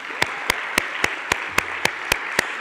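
Applause from an audience at a public astronomy evening event, a broad wash of clapping with sharp, evenly spaced loud claps from one nearby pair of hands cutting through.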